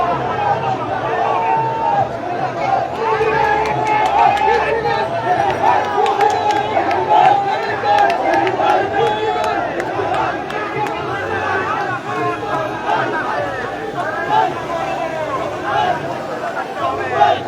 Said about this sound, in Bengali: উচ্চাস স্লোগান নিয়ে সবাই আসছেন আজকের এই বিজয় র্যালিতে অংশ নিতে